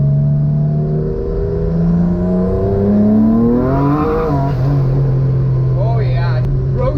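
Twin-engine Mazda MX3 with both engines revving hard, a loud close-up roar climbing steadily in pitch before settling into a high, sustained drone while the tires spin.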